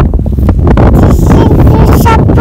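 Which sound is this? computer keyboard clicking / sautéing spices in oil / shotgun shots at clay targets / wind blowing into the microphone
wind blowing into the microphone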